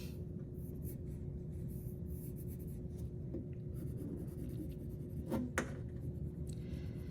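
Colored pencil shading on paper, a close, continuous dry scratching with steady back-and-forth strokes and a couple of brief louder scrapes, with no talk over it.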